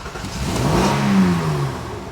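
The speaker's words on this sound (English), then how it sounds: "If there is a mechanical problem, we should be able to hear it. So let's crank it." The engine of an Acura MDX with low power and a cylinder fault cranks in one loud, steady, continuous mechanical whir, with a droning tone running through it.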